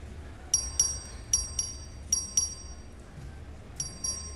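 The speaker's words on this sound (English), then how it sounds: "The clerk will ring the bell." A clerk rings a bell in a Texas legislative chamber for a record vote, several bright electronic chime strikes in evenly spaced pairs with clear ringing tails over a quiet room hum.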